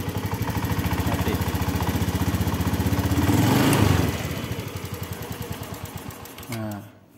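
A motorcycle engine fitted with a counterfeit, oil-soaked air filter idles roughly, throbbing and sputtering unevenly before stalling near the end; a person talks over it.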